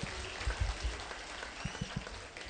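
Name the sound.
applause for Governor Kang'ata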